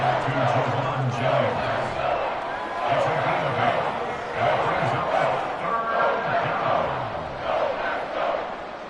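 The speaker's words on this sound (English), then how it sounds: "This crowd turning up the decibel level." Stadium crowd in a Madden 25 football game simulation of the 49ers against the Packers, a loud continuous roar with surging cheers, steady throughout under constant commentary talk.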